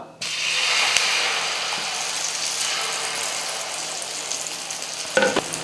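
Beaten egg sizzles steadily in a pan of melted butter and oil for a bread omelette, a loud continuous frying hiss from start to finish, with a few faint utensil clicks near the end.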